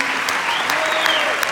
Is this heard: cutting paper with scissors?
no